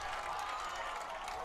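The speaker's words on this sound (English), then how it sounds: "You look down there on the field, you hear the roar of the crowd." A football crowd at a jamboree roars and cheers in a steady, distant wash of noise that holds without a break.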